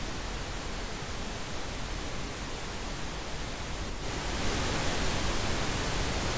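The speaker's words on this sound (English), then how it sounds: "I'm just going to do it with pink noise first." Steady, dense pink noise hisses evenly throughout, growing slightly louder and brighter partway through, with no other sounds.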